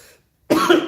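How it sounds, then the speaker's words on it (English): A single harsh cough bursts out near the mic after a brief quiet moment, loud and abrupt. "Poor people's cough."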